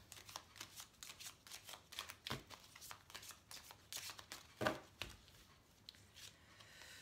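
Oracle cards are shuffled by hand, a quiet, close sequence of soft riffling flicks and taps repeating irregularly, with a few sharper snaps along the way.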